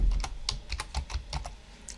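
Rapid keystrokes clatter on a computer keyboard while VBA code is typed, close and fairly quiet, in an uneven run of clicks with no voice.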